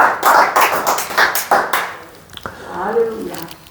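A church congregation claps for about two seconds in a fast run of sharp, close claps, which then gives way to a voice speaking.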